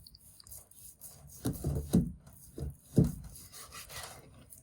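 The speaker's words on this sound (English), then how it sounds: "So you want to cut with the grain, as I said, and I'm going to do them at about this thickness" A knife slices meat with the grain into strips about an inch thick for biltong, giving four or five soft, rasping sawing strokes, close and quiet, with no talking.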